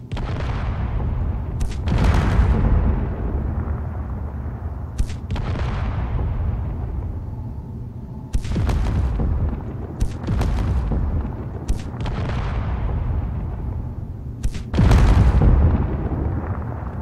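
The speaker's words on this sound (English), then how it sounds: "There's the explosion I wanted." Explosions in the video game Space Engineers, a series of about eight sharp booms spaced irregularly with deep rumbling tails, loud and close over a constant low background drone, no talking.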